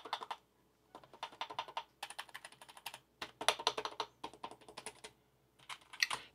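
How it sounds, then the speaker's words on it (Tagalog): Typing on a Langtu L102 tri-mode full-size membrane keyboard: soft, muted keystrokes come in quick irregular bursts separated by short pauses, close and alone with no talking. "wala tayong masyadong aasahang tunog kasi nga membrane keyboard"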